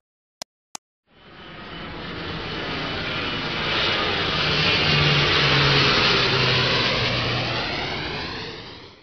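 Two sharp clicks, then an airplane engine roars up and holds steady, a loud broad drone with a faint shifting hum underneath.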